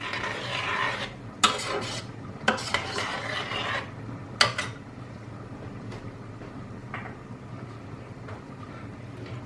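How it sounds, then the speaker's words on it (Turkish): Scraping, stirring sounds of a utensil against a pot of tomato sauce, with a few sharper clinks early on over a steady low background hum. "şöyle bir karıştırıyorum"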